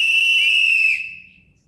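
A single sustained whistle blast, loud and shrill, held for about a second before fading out, with no voices.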